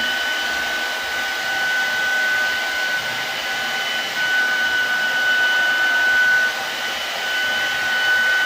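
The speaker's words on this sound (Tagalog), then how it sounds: "Pinatuyo ko lang po itong kanyang buhok guys." A hair dryer blows steadily and loudly at a salon while rebonded hair is dried, a constant close whoosh with a faint whine that holds from start to finish.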